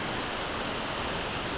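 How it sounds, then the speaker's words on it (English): A small waterfall spills off the side of a gorge at Emma Gorge, El Questro Station, giving a steady, even rush of falling water with no voices over it. "Just noticed another little waterfall coming off the side of the gorge here."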